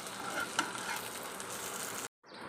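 Poha cutlets shallow-frying to golden brown in oil give a steady, fairly quiet hiss and sizzle that runs unbroken, then cuts off abruptly near the end before resuming faintly.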